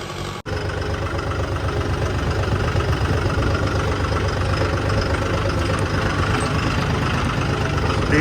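A 4x4 tractor engine runs at a steady idle close by, a continuous low mechanical rumble that holds for several seconds after a brief dropout at the start, with no talking.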